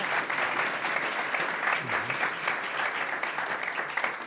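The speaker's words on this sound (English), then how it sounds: "Let's give our panel a great round of applause," Audience at a sports concussion science forum applauds a panel, a steady, dense round of clapping sustained throughout at moderate loudness with no talk over it.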